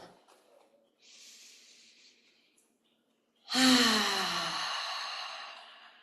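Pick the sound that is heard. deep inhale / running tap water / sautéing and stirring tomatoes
deep inhale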